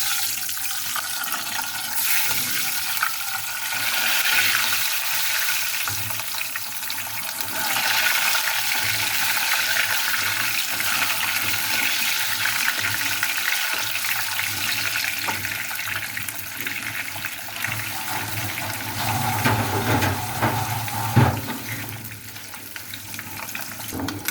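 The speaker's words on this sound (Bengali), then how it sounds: "এখন আমি ভেজে নেব।" Boiled eggs rubbed with salt and turmeric frying in hot oil, a steady sizzle and crackle that swells and fades, with stirring and a sharp clink near the end.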